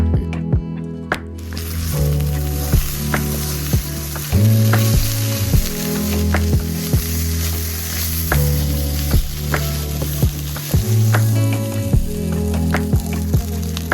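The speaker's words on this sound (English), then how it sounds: "today we are going to be eating some vegetable fried rice" Vegetable fried rice sizzling loudly in a pan at home, a dense close crackle with repeated scraping and stirring strokes of a utensil against the pan throughout.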